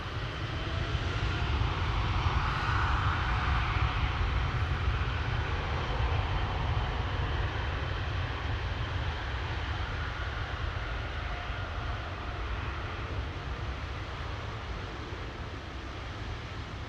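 An Emirates airliner takes off at Amsterdam Schiphol Airport, a loud, steady broadband jet roar that holds for the whole stretch and fades only slightly toward the end, with no voices.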